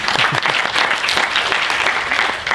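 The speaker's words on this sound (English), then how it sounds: "give yourself a round of applause" A crowd claps steadily in sustained applause, dense and fairly loud throughout with no voices rising above it.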